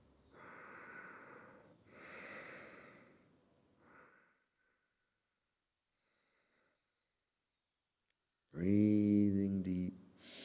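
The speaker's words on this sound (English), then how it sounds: "Breathing deep." Slow, deep breaths drawn during a yoga session: two long airy exhales, a softer third breath, a quiet pause, then a loud, rough, snort-like breath near the end.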